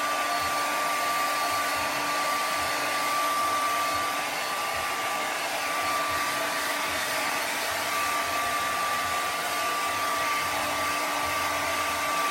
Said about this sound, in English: watching a person using a hairdryer on a drawing tonight, on a painting?